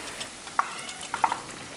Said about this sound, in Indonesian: Sekarang kita akan angkat dan kita akan goreng lagi sisa adonannya